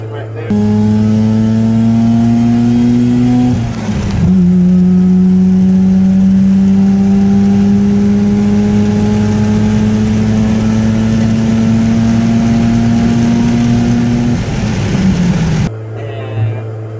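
A car engine pulls steadily through two gear climbs, its pitch rising and falling under a brief shift break, close and loud inside or beside the vehicle; a voice talks over it.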